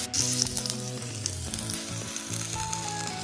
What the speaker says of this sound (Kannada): ಹೆಂಚು ಬಿಸಿ ಆದಮೇಲೆ ಸ್ವಲ್ಪ ಬಟರ್ ಹಾಕಿ ಸ್ಯಾಂಡ್ವಿಚ್ ಇಡಬೇಕು.